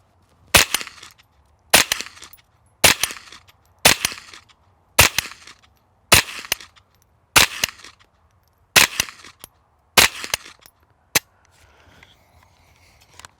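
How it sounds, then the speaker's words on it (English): Suppressed .22 rifle firing standard velocity rounds, ten sharp cracks spaced about a second apart, fairly loud and close, ending with faint outdoor noise. "Standard velocity, 22 out of a rifle."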